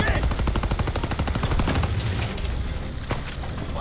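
Rapid gunfire in a Call of Duty: Vanguard battle, a fast, evenly spaced burst of loud shots for about two seconds, then a few scattered single blasts amid chaotic combat noise.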